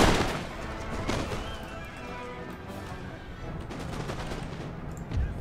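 Musket fire crackles in a volley aimed at a block of cavalry in Empire Total War, a dense rattle of shots over rumbling battle noise and hoofbeats.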